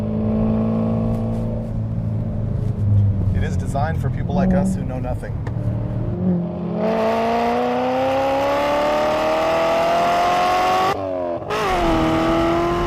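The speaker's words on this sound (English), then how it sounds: "This is an easy car to drive." A 1974 Chevy Laguna engine revs hard while driving, climbing in pitch through the gears with a brief dip at a shift, loud and close under a voice talking over it.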